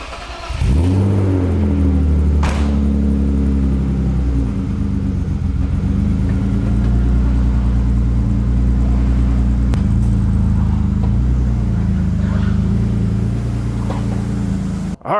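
An all-carbon lightweight drag car on a test drive after coming off a lift: a loud, steady engine rumble with rising and falling revs throughout, close and continuous, with no talking.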